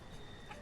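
Brief soft clucking of chickens in the village-building video game Banished, faint and low behind steady background ambience, a single short burst.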